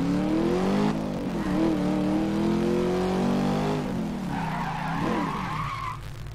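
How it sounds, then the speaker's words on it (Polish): A Dodge Challenger SRT8 accelerates hard from 0 to 100 km/h: a loud, close engine roar rising in pitch through the gears with short shift breaks and tire noise, heard alone without talk. "Teraz przyspieszenie od 0 do 100."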